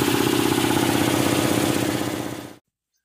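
A new air compressor runs with a loud, steady, pulsing mechanical drone, then winds down and cuts off abruptly into silence.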